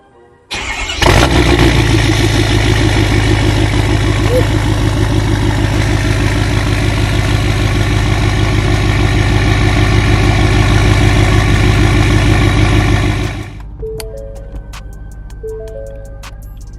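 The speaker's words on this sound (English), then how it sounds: "Let's get some cold start action." A 6.7L Powerstroke diesel engine in a 2017-2019 Ford F250 pickup cold-starts loudly, settling into a steady, rumbling idle for about twelve seconds before dropping to a quieter running hum.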